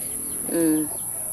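A single short cluck from a chicken rises briefly over a faint high-pitched background hum.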